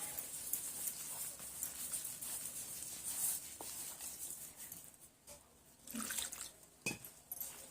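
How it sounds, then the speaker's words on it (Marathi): Water is poured and mixed into wheat flour dosa batter, giving a quiet, close splashing and trickling with a few soft wet knocks and slaps toward the end. "आता ह्यात पाणी घालून आपण व्यवस्थित असं"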